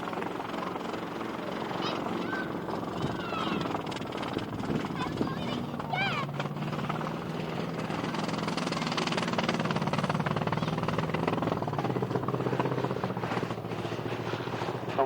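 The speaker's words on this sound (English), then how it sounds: "Storches are touching down" Fieseler Storch light aircraft landing at an airshow, a steady droning engine and propeller rumble with a whooshing flyby quality, continuous and fairly loud over background crowd and commentary.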